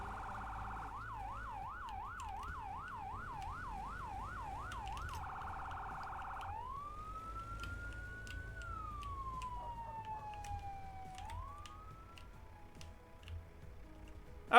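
A fire engine siren in Firefighting Simulator: The Squad wails in rapid up-and-down cycles, then shifts to slower rising and falling sweeps, with faint ticking clicks scattered underneath.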